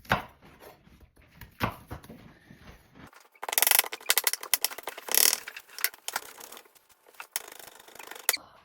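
A knife dices shallots on a cutting board, quiet irregular taps at first, then faster, sharper clusters of chopping strokes, close and alone.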